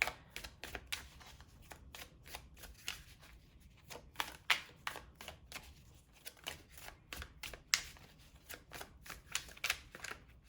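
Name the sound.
shuffling and drawing a tarot card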